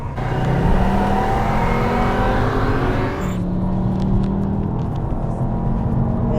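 A Volkswagen CC VR6 with all-wheel drive drones loudly from close inside the car, its engine and exhaust holding a steady rumbling note, then easing off briefly before pulling strongly again.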